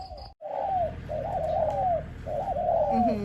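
A trained dove coos in repeated rolling phrases, three calls close by and fairly loud, with a faint high whistle at the very start.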